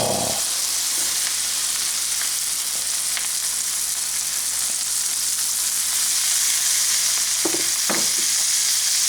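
A Reuben sandwich of corned beef and melting cheese sizzles in a hot pan, giving a loud, steady crackling fry throughout, with a few soft clinks and no talking.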